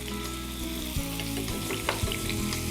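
Green chili paste with cumin fries in a hot pan with a steady, loud sizzle. A few soft scrapes of stirring cut through it.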